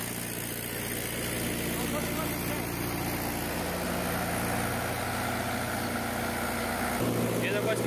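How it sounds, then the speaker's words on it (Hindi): A Mahindra 575 DI XP Plus tractor with an 11-tine cultivator and its lift levers down, diesel engine held steady around 1700 rpm, a loud continuous rumble with someone talking over it and a brief shift near the end. "1700 आरपीएम पर चल रहा है भाई।"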